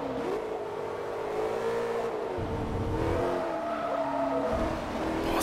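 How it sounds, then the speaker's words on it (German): A BMW M3 GTR race car in the Forza Motorsport 3 video game revs steadily with its engine pitch rising and dipping, the tires squealing as the car slides out of control. "Ich gebe nicht mal Vollgas und das Auto bricht schon komplett aus."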